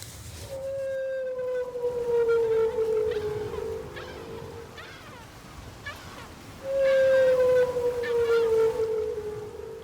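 Long, loud humpback whale moans slide slowly downward, with softer wails and creaks in between, echoing underwater as picked up by a hydrophone.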